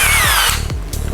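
A power drill bores in, its high motor whine steady and close, with a couple of short load dips as the bit bites, and no talk over it.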